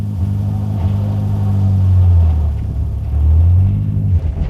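A FIAT 125p taxi engine with no soundproofing catches and revs, a loud close low rumble that swells twice and eases back between the pulls.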